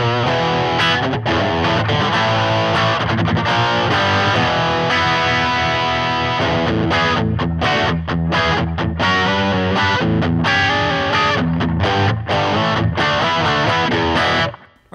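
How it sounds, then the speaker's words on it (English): An Epiphone Les Paul Special-II LTD electric guitar played through an Electar 15R amp gives loud, distorted chords and riffs with choppy stops, ringing on steadily before cutting off at the end. "Alright, so I was just playing the Les Paul Performance Pack."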